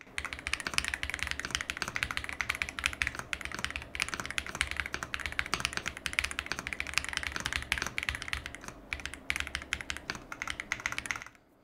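Rapid, continuous clacking of keys being typed on a computer keyboard, close and crisp, running steadily before stopping abruptly near the end.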